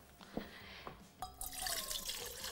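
Warm water poured into a bowl for dough in a home kitchen, starting as a few faint drips and splashes, then turning into a steady close pouring stream.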